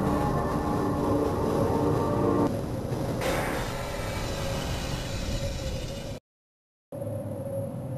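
A tram train ride in the Half-Life VR video game, with a loud continuous mechanical rumble and hiss of the moving car that drops and shifts partway through, then a brief cutout before the rumble resumes.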